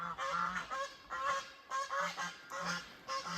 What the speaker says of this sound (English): Those geese are angry. They just got locked up. They're mad.